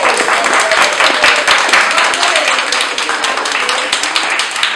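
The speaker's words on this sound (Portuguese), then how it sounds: "eu queria pedir que a gente desse uma salva de palmas para todos nós que estivemos aqui" Audience applause fills a round-table event at a children's library, a dense, steady patter of many hands clapping close by for nearly five seconds, with a few voices faintly mixed in.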